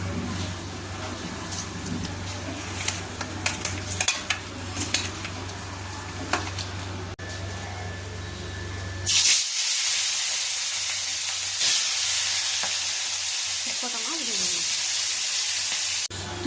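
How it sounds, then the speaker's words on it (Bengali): Fish rubbed with salt and turmeric drops into hot mustard oil, and a loud, steady sizzle bursts in and keeps hissing close by. Quieter kitchen clatter and stirring come before it. "সর্ষের তেল গরম হয়ে গেছে। মাছটা নুন হলুদ মাখিয়ে মাছটাকে ভেজে নেব।"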